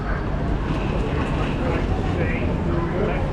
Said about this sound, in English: So we're up by the train now,